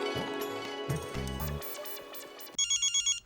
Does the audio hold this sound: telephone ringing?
yes